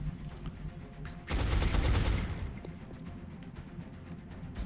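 A rapid burst of gunfire from XCOM Long War, a loud clustered volley of shots that starts abruptly and rings briefly before fading into a low background hum.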